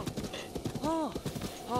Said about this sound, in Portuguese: Agora a gente pode andar de cavalo pra sempre.